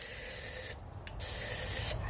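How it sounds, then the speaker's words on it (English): Black spray paint hisses from an aerosol can onto an epoxy tabletop, a steady close spray broken by a brief pause before a second burst. "some black spray paint"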